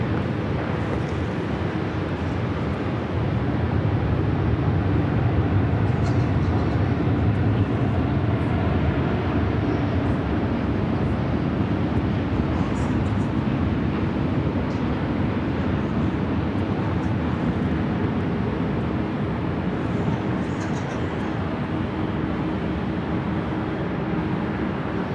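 A Super Airbus A380 jet departs runway 24 at Los Angeles International Airport, giving a steady, broad engine roar that swells slightly and holds loud for the full span.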